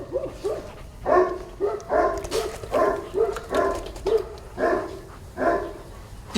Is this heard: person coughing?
no